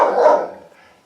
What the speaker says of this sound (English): The cat and the dog like to argue, and that's basically what that is.